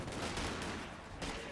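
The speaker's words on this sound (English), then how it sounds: "Rear echelon to use volley fire there." Rear echelon troops in the video game Company of Heroes 2 fire a volley of rifle shots: a dense, rapid crackle of gunfire in close overlapping bursts, loud and continuous.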